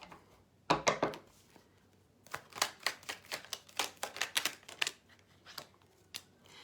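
A quick series of crisp riffles and taps as a Rider-Waite tarot deck is shuffled close up, with short bursts and pauses, no talking.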